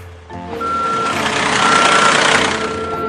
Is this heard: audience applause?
no